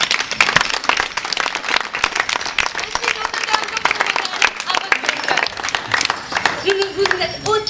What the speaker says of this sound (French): applaudissez un artiste